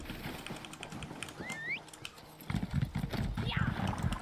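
Horse hooves clip-clop in the video game ESO: Morrowind as a character rides across open ground, a steady rhythmic trot that grows louder and busier midway, with a brief whinny-like call and someone talking over it.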